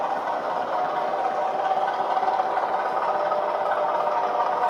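Bachmann Kernow Class 205 Thumper model diesel unit's engine sound plays as a continuous, even rumbling hum with light rattle, staying at a steady level rather than clearly rising, and no voices.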